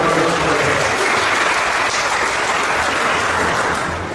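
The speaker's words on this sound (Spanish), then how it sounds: "Un fuerte aplauso." Sustained applause from an audience at a religious talk, a steady dense wash of clapping that stays loud and slowly fades slightly toward the end.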